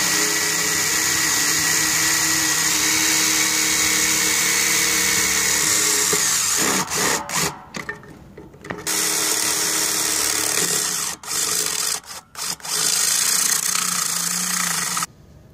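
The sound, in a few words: drilling holes for a dish mount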